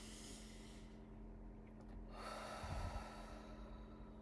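A single slow, deep breath drawn in during a calm grounding exercise, rising as a soft, close airy rush and fading out, with no talking.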